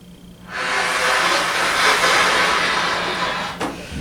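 A breathy, pitchless rush of air blown steadily into a trumpet for about three seconds, a beginner's strained attempt that produces no real note.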